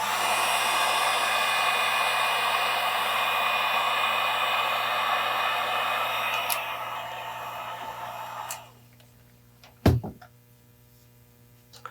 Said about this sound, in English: Now I'm just going to hit that with my heat gun to shrink the shrink wrap onto the cable.